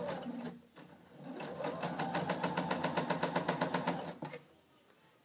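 A sewing machine stitches folded fabric for a hand puppet, starting with a hum and settling into a steady, close, rapid mechanical clatter that runs for about three seconds before stopping.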